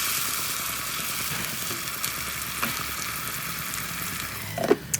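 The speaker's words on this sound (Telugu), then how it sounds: "ఇప్పుడు దీంట్లో మనం గ్రైండ్ చేసి పెట్టుకున్న టమాటా పీలు వేసుకోవాలి" Ground tomato paste hits a frying curry of korrameenu fish, producing a steady close sizzle of hot oil with a few faint stirring taps and a brief louder clatter near the end.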